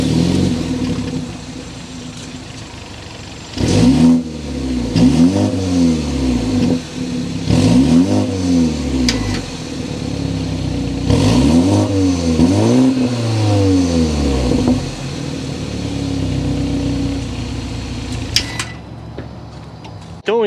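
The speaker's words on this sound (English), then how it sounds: "start up, so you can hear that exhaust note" A 2023 BMW 430i xDrive coupe engine starts and revs repeatedly, the exhaust note rising and falling in several sharp bursts before settling into a steady idle rumble.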